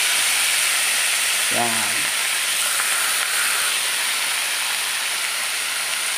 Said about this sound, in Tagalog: ilalagay ko na itong hiniwa kong kangkong